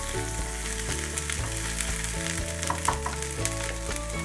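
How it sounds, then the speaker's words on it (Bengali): Chilli chicken with chopped onion sizzles steadily in a pan and is stirred, Bengali style, with a close, continuous frying hiss running through the whole stretch. "এটা বেশ ভাজা ভাজা হয়ে আসবে"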